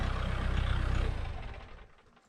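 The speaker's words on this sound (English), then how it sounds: "Go ahead, shut off the tractor." A Kubota tractor fitted with a front end loader idles close by with a steady, pulsing diesel thrum that fades and winds down toward the end.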